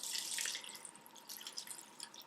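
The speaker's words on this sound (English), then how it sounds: "I'm going to add some water." Water splashes and trickles into a cooking pot holding fabric for natural dyeing with flowers, a faint pour of running water followed by scattered drips.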